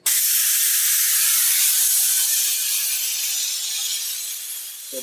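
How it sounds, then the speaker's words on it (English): Air blown through a normally open automatic transmission solenoid makes a loud, steady, bright hiss that holds for about five seconds, easing slightly toward the end before a brief stop. "this is a normally open solenoid, so it should blow air through it always."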